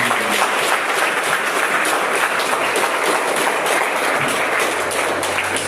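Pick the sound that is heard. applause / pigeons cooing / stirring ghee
applause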